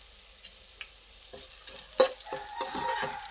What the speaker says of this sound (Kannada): ಇವೆಲ್ಲ ಚೆನ್ನಾಗಿ ಎಣ್ಣೆಯಲ್ಲಿ ಫ್ರೈ ಆದ ತಕ್ಷಣ